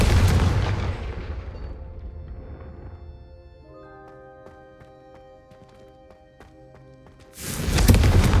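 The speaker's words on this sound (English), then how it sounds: "a Confringo cast travels a bit farther than that of a spell like Incendio" Confringo spell in Hogwarts Legacy cast and exploding, a loud booming blast that decays into a ringing, shimmering tail before a second heavy burst near the end.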